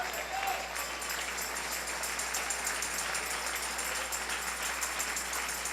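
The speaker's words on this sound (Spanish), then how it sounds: "Dale ese aplauso al Señor" A church congregation gives sustained, even applause at a sermon, a dense continuous clapping that holds steady throughout.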